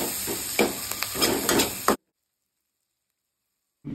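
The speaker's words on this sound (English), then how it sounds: "1 big onion, thinly sliced, and again fry it for about 2 minutes" Thinly sliced onion and coriander leaves fry in a pan for a chilli garlic chicken curry, a steady close sizzle with a few stirring scrapes, then it cuts off abruptly into silence before the sizzle returns.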